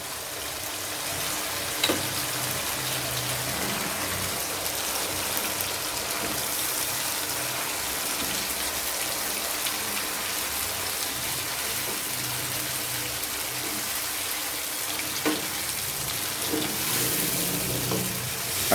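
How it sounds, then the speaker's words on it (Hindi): Seekh kebabs frying in a pan of roasted masala, a steady dense sizzle with occasional stirring scrapes, loud and close throughout. "फ्राई कर लेंगे थोड़ा सा इसमें, ताकि मसाला जो है वो इनके अंदर चला जाए।"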